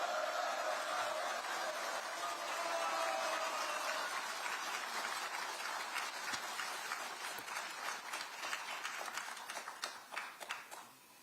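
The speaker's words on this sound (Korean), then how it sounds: "우원식 국회의장님 큰 박수로 앞으로 모셔보도록 하겠습니다." A crowd at a rally at the National Assembly urging a constitutional amendment for the 5·18 spirit applauds as Assembly Speaker Woo Won-shik is welcomed forward. Sustained, dense clapping sounds faint and distant, then breaks into scattered claps near the end.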